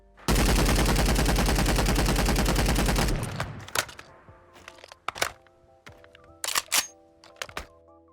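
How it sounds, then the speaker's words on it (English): Prototype R-Series rifle chambered in .308 with custom sounds in Fallout 4: a loud, sustained burst of rapid automatic fire for about three seconds, then sharp single cracks and mechanical clicks with ringing tail. "the prototype R-Series rifle, which is using 308 and has its own custom sounds as well"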